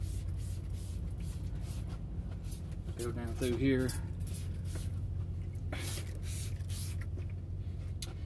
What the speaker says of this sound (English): you want to just spray over it